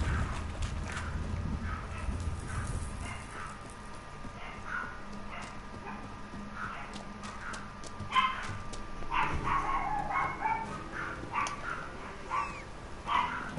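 Dogs bark in The Witcher 3: Wild Hunt, several short yaps scattered through the middle and later part alongside horse hoof clops and steady game ambience, moderately near, with no talking over them.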